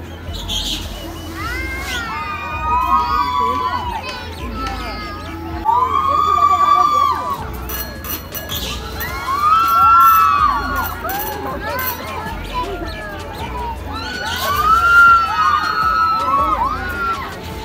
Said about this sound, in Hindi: ये जब ज़्यादा ऊपर जाएगा तो फिर इनकी चीखें सुनिएगा।